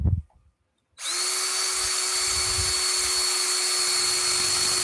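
A power drill bores into wood held in a V block in a woodworking studio: after a brief thump and a moment of quiet, the motor starts and runs at a steady, loud high-pitched whine to the end.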